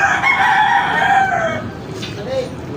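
A loud, close rooster crow lasting about a second and a half, fading into a quieter outdoor background with faint distant sounds.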